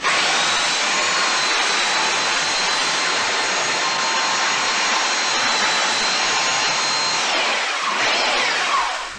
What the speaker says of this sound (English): That's a real coarse belt, and it's going to take away a lot of the wood fast.